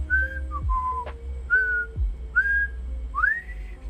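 Clear melodic whistling by a person, a series of short rising and sliding tones with brief pauses between phrases, close and fairly loud over a low background hum.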